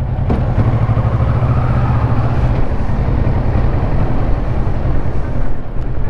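A Kawasaki Versys 650 Tourer motorcycle rides off, its engine giving a steady, continuous low drone that stays close and fairly loud throughout.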